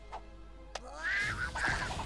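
A cartoonish duck quacking in the video game Mario + Rabbids Kingdom Battle, a couple of short nasal quacks after brief clicks and a thwack, quiet amid game sounds.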